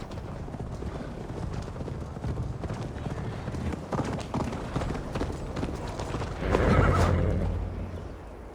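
Horse hooves clip-clop steadily in Assassin's Creed Valhalla, a close, continuous trotting rhythm with game ambience, swelling near the end as a horse whinnies loudly.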